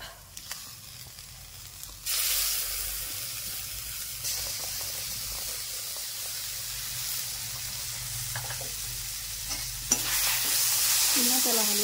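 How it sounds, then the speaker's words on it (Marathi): Masala with roasted, chopped tomatoes sizzles and fries in a pan for Khandeshi-style eggplant bharit, with a steady hiss that swells as the tomatoes go in and scraping stirs throughout, close and fairly quiet. "सर्व चांगलं थोडंसं फ्राय करून घेऊ आपण"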